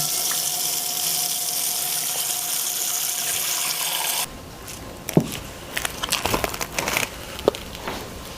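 Tap water runs steadily into a sink to soak beef short rib, then stops, followed by crinkling and clattering handling noises close by.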